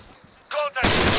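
Rifle fire in an Arma 3 military firefight against an enemy soldier, a short loud crack that breaks out suddenly after a moment of quieter background, with a voice heard briefly beforehand.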